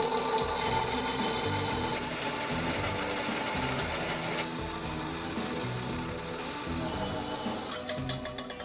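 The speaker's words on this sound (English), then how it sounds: "Put this back in the lathe and cut my 3 3/8 inches off." A metal lathe cuts a 3 3/8 inch length off a steel piece, giving a continuous close whirring, grinding drone with shifting tonal ringing and no voices.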